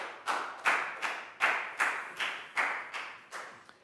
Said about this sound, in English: a big round of applause for Prau